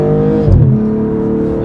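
A car surging forward under hard acceleration on a road drive, the engine note climbing in a steady loud roar with a brief rising whoosh midway, no talk over it.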